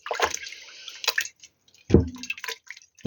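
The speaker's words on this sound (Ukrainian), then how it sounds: "Я промиваю ж масло." Homemade butter being rinsed in water by hand, with wet squishing, sloshing and dripping sounds in irregular close bursts, louder toward the middle.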